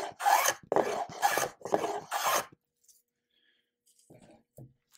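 A hand plane shaves a bevel off a wooden edge to form a roundover: four brisk, close rasping strokes in quick succession, then near silence broken by a few soft handling taps.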